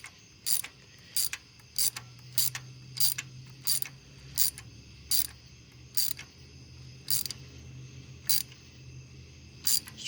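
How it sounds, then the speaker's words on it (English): A socket ratchet clicks in short, evenly spaced bursts while a coolant temperature sensor is cranked snug on a 1997 Jeep Grand Cherokee with the 4.0 six-cylinder engine, close and crisp over a low background hum. "Just crank her down until she gets real snug."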